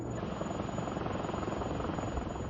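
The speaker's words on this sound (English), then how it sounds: "engineers attached a receiver to a small Robinson helicopter" A small Robinson helicopter fitted with a receiver flies steadily overhead, its rotor and engine making a constant, dense drone with no talk.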